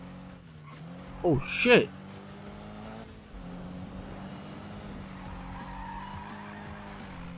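A racing car's engine in the Need for Speed video game growls in a steady, low drone throughout, with a brief tyre skid and a man's startled exclamation early on.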